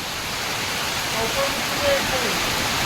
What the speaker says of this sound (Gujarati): ફૂલ વરસાદ, વાવાઝોડા સાથે વરસાદ, ફૂલ પવન સાથે વરસાદ છે